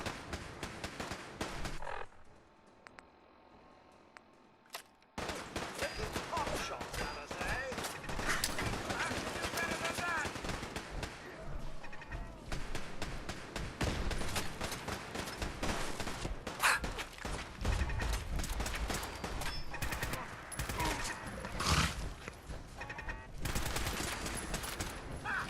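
Pipe rifles fire in Fallout 4 combat as dense, continuous bursts of gunfire and impacts, loud and close, broken by a brief near-silent gap at the start.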